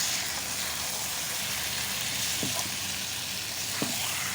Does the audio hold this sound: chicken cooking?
yes